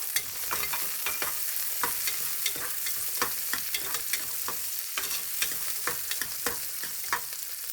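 Ginger and garlic fry in hot oil, a steady crackling sizzle punctuated by regular sharp scrapes and taps of a spatula against the pan.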